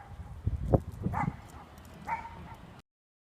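Neighbours' dog giving a few short bow-wow barks and yips at medium distance, separated by brief pauses and followed by a quieter yelp near the end, heard against light outdoor background noise.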